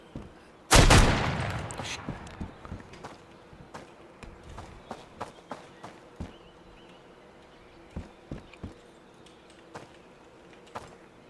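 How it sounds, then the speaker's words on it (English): Realistic gunshots in a video game: one loud blast near the start, then a series of sharper, quieter shots and impacts spaced irregularly over about ten seconds, with no talking. "some of the gunshots were recorded, but it sounds so realistic"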